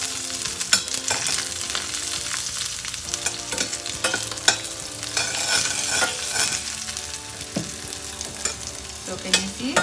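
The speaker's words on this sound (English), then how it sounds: "So can you see how the garlic is browning?" Garlic frying in oil in a pan for a South Indian onion tomato chutney with red and bedangi chilies, a steady close sizzle broken by scraping stirs of a spoon against the pan.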